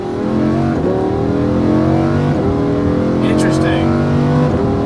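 A Lamborghini Huracan 580-2 engine revs loud and close while driving, climbing in pitch and dropping sharply at each of several gear shifts, with someone talking over it briefly.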